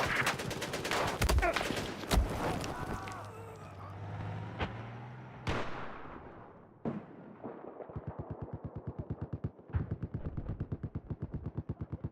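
Rapid automatic machine gun fire from the Battlefield 4 video game: scattered gunshots and vehicle noise at first, then sustained fast bursts of evenly spaced loud shots in the second half.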